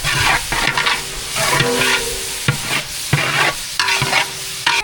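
Vegetables and biryani masala, with garam masala and turmeric, are stirred in a frying pan, with repeated scraping strokes and knocks against the pan over a steady sizzle and no talking.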